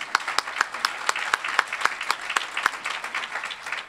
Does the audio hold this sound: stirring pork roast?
no